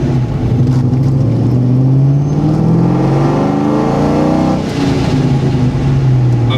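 A ProCharged New Edge Ford Mustang with a two-valve 4.6 engine revs hard nearby, its loud supercharged note rising and falling through several sweeping pulls.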